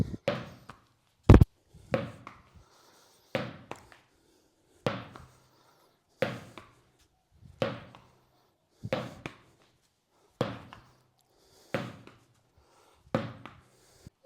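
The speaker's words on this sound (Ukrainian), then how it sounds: "штовхаємо м'яч у підлогу і сідаємо, штовхаємо м'яч і піднімаємось" An exercise ball thumps against the floor about ten times at a slow, steady pace, each bounce a dull close thud with a short rebound.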